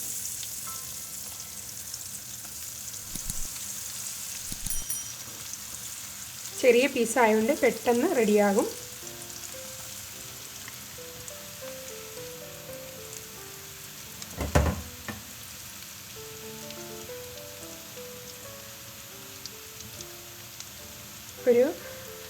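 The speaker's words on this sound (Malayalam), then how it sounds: "ഇനി നമുക്കതിലേക്ക് നമ്മുടെ ചിക്കൻ ഇട്ട് വറുത്ത് കോരാം." Chicken pieces deep fry in hot sunflower oil with a steady, soft crackling sizzle throughout, while a person talks and a few sharp utensil knocks stand out.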